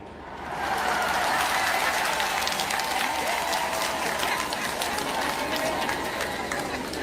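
A large gathering at a farewell ceremony for Cardinal Pengo lets out sustained ululation and cheering with mixed clapping, a dense roar that swells in quickly and holds steady, with voices calling out through it.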